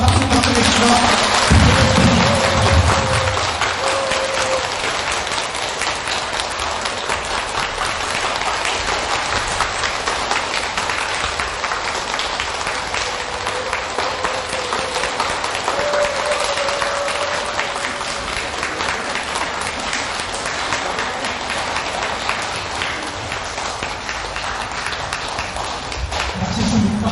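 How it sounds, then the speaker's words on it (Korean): A congregation at a Buddhist temple dharma service for the Baekjung prayer period applauds, a long, even wash of many hands clapping at a steady level for almost half a minute, with brief voices at the start and end. "박수 부탁드리겠습니다."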